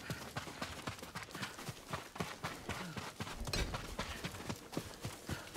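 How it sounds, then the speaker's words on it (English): Several horses from Ghost of Tsushima gallop nearer with steady, loud hoofbeats that clatter in a quick, rolling rhythm and grow fuller toward the middle, with no voices over them. "Horses, they're coming for us."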